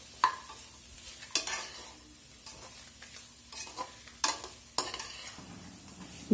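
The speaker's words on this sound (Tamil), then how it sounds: "இதோட நம்ம தேங்காய் கட் பண்ணி வச்சுருக்க தேங்காயும் போட்டு வதக்கிக்கலாம்." Chopped coconut being stirred and sautéed in a frying pan with onions for a Tamil mutton kola urundai recipe, with soft sizzling and intermittent sharp spatula scrapes against the pan, close and otherwise quiet.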